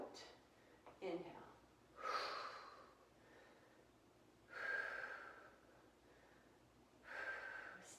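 Heavy breathing during a resistance exercise, with slow, separated breaths each lasting about a second, some sharper and more forceful than others, close to the microphone and with no clear talk.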